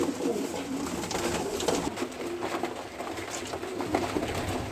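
Pigeons coo softly in a rooftop loft of young birds, low burbling calls repeating over a steady faint background with no talk.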